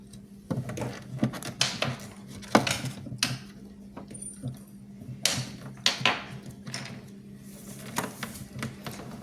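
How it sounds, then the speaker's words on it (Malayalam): Door of a VVPAT voting machine being closed and sealed with thread after a mock poll, giving scattered soft clicks, knocks and rustling handling noises over a steady low hum, with no talk. "VVPATൻ്റെ ഡോറ് നമ്മൾ അടയ്ക്കുന്നു"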